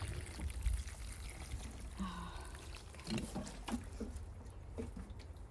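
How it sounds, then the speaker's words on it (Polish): Water poured from close by over potted pansies and hellebores, a soft broadband trickle and splash with brief dribbling bursts over a few seconds, with no talk. "Dobrze trzeba zlać te doniczki, żeby nie zostało za dużo"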